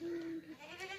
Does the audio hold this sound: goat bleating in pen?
yes